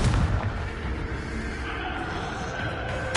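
A Confringo explosion spell is cast in a Hogwarts video game, a sharp booming blast at the start followed by a rumbling tail, then another punchy burst right at the end.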